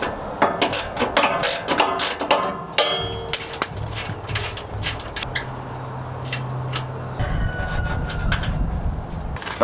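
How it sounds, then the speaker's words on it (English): Ratchet wrench loosening rear sway bar bolts on a Jeep Gladiator, a rapid run of sharp clicking bursts close up, followed by a steadier low mechanical drone. "And then we're going to take off the 2 bolts on either side of the square cutout."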